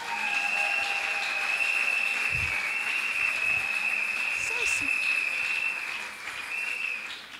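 An audience at a graduation ceremony breaks into sustained applause for the graduates, a dense, fairly loud clapping that holds steady and then thins slightly toward the end.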